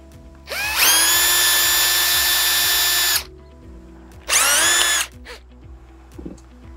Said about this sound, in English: And I'm going to use my drill here